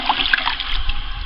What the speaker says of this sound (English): I'm just going to go ahead and dump this in and stir it up.